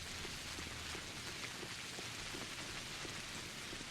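Steady rain falling in the video game Pathologic, a soft, even hiss of drops pattering on surfaces with faint scattered ticks, low in level and continuous throughout.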